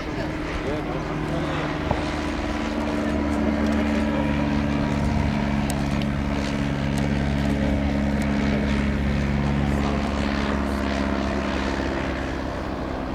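A Piper NE-1, the Navy version of the J3 Cub light aircraft, drones with a steady propeller engine during a flying display, a continuous hum with stable tones that runs throughout while a voice talks over it.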